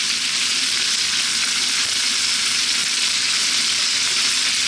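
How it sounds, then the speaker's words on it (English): Onion sizzling in a hot pan for Thai chicken stew with peanuts, a steady, loud, close frying hiss that continues evenly throughout, with no voices. "We're going to add the onion in."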